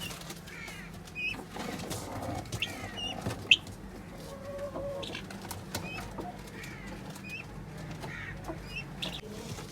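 Chinese ornamental hens of the chakor type cluck and call in short, scattered bursts, mixed with chirps from other birds over a soft, busy outdoor background.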